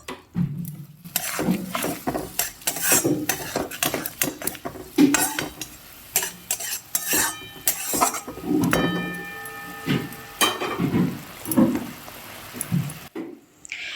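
A spoon clatters and scrapes steadily against a pan while spices are stirred and fried for paneer bhurji, with repeated metallic knocks, scraping strokes and a soft sizzle, close and alone without talk.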